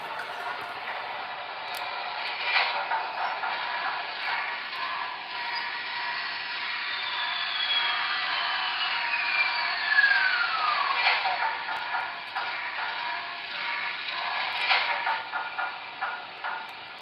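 A model freight train runs steadily along layout track, a continuous mid-level rolling rumble with faint clicks lasting throughout, no talking over it.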